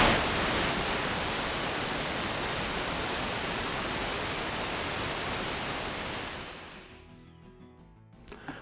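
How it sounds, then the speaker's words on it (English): Compressed air rushes out through the opened drain of an air compressor tank. A loud, broad hiss holds steady for several seconds, then fades away to near silence as the pressure runs out. "I'll go ahead and open the drain on the tank and let all that air pressure out"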